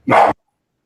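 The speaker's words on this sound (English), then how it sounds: "so sorry about the barking" A single short, loud bark from a nearby dog, sharp and close, followed by silence.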